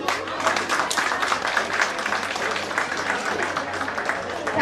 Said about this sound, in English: I would request you to give a big round of applause.